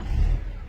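A car engine surging at idle, its revs rising and falling on their own, loud and close with a low, throbbing rumble that swells and eases over a brief moment.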